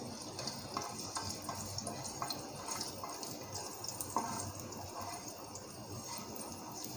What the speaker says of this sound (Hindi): देखिए इसको हम फ्राई करेंगे हल्का सा इसमें ताकि गार्लिक का टेस्ट आ